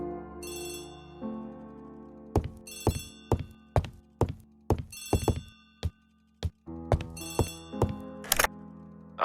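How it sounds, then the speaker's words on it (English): A telephone rings in the video game The ABC Murders, with repeated bright electronic bell bursts in a steady pattern over low background music and interleaved thunks, loud and close. "Poirot, the telephone."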